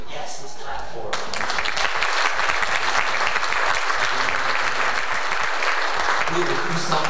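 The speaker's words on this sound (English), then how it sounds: "Yes, let's clap for them." A church congregation at a Sunday service breaks into applause, a dense sustained clapping from many people that starts abruptly after a brief lull and stays loud, with scattered cheers mixed in.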